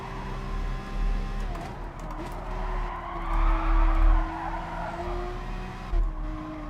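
Lamborghini tyres skidding in Gran Turismo Sport, a sustained squeal over a loud, droning race engine whose pitch dips and climbs as the car slides.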